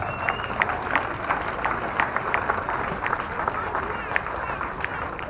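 Scattered applause and light clapping rippling through an outdoor solidarity rally crowd in San Diego, at moderate distance amid crowd murmur.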